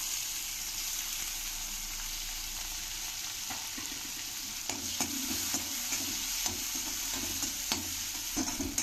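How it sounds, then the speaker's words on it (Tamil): Onions sautéing with browned garlic in a pan, a steady close sizzle with soft rhythmic scraping and clicks of a spatula stirring. No one speaks. "இப்போ கொஞ்சம் வெங்காயம் சேர்த்துக்கலாம்."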